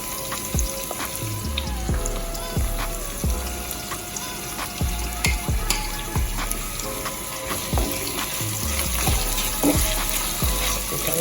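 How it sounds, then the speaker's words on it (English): Saltfish frying in a pan with sweet and hot pepper gives a steady, close sizzle with regular light scraping taps throughout, and no voices. "you can put in the saltfish now"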